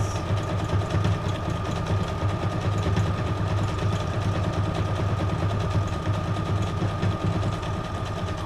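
A sewing machine stitches paper junk journal tags in a steady, rapid mechanical whir that runs close and continuous with no pauses, and no talk over it.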